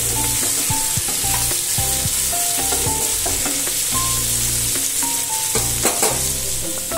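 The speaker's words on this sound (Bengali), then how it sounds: "যে কোনো মাছের আলু যদি এরকম করে নুন হলুদ দিয়ে ভালো করে লাল লাল করে ভেজে নেওয়া হয়" Potato pieces frying in a pan with salt and turmeric, a steady loud sizzle with repeated stirring and scraping strokes throughout, no voices.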